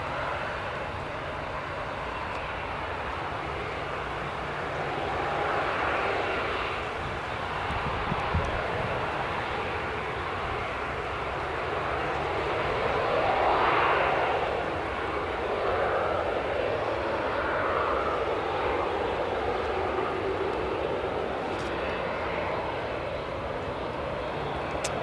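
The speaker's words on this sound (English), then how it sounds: "Jet2's just taxiing in the background." Jet2 airliner taxiing at Newcastle International Airport, a continuous distant engine whine and rumble that rises and falls gently while it moves along the taxiway, with no voices.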